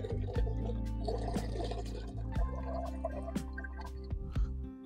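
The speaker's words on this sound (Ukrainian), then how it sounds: "Зливаємо цю воду обратно." Hot water drips and trickles with a steady, wet splashing as it is poured back out of glass canning jars of cucumbers and tomatoes close by, punctuated by occasional louder knocks.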